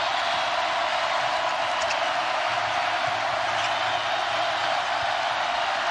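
Large crowd filling a college basketball arena at a Minnesota Gophers home game, a steady loud roar with no pauses throughout.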